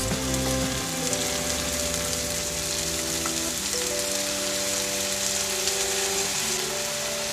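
Onions and peppers sizzle loudly in a stovetop pan for a vegan pizza. The frying hiss holds steady and close, with faint tonal hums running beneath it.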